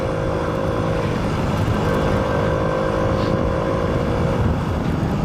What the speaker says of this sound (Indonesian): Kita kasih adegan speeding dulu pakai Shogun ya.